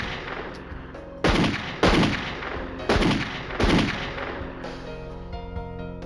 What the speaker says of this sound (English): What you shooting for?